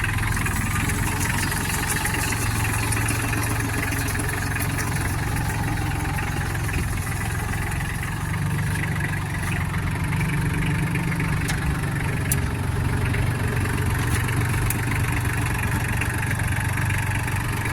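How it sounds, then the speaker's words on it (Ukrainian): Small Solis 26 Extra compact tractor engine idling at a tractor sales yard, a steady low diesel rumble with a faint knocking texture held evenly and fairly close throughout, no voices. "Ось тракторець прямує до свого власника."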